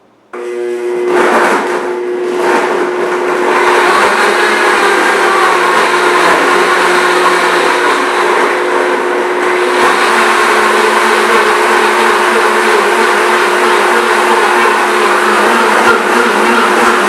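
A blender whirs loudly and steadily, close up, as it purées a zucchini, basil and garlic sauce with lemon juice, revving up at the start and holding an even, continuous drone.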